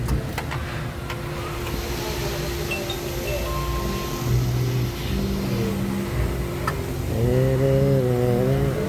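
A Mitsubishi L300 with a 4N14 diesel engine and a carbon-clogged intake idles loudly nearby, its steady mid-pitched drone rising into revs toward the end.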